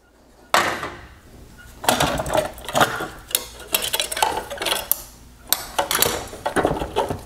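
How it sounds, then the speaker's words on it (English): T20 screws are backed out of a black plastic bezel on a 2019-2021 Range Rover Sport LED headlight, giving close clicks, light clatter and plastic rattling in uneven bursts. "So now I'm gonna go ahead and start removing the T20 screws."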